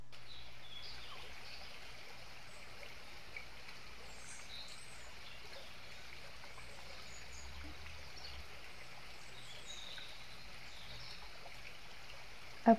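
Gentle flowing river water, a soft continuous trickle and babble heard alone at low level, with faint bird calls scattered throughout.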